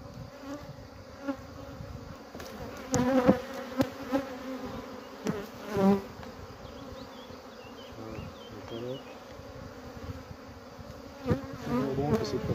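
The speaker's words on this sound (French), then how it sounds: "Ah, c'est un faux bourdon, ça. C'est un beau mâle." Honeybees and drone bees hum steadily at a hive frame during an inspection, with louder buzzing passes rising and falling close by, while a person speaks quietly at times.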